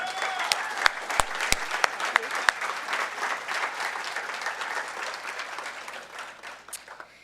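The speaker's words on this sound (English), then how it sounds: "So I just would like to give Becky a round of applause for her work." A gala audience applauds for several seconds, dense clapping with a few sharp, close claps near the start, holding steady before fading slightly toward the end.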